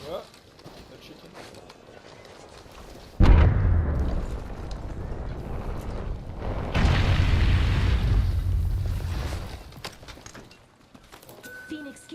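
A battle royale video game plays out with a sudden loud boom and then a long roaring blast of gunfire and explosions that fades away, while people talk over the action.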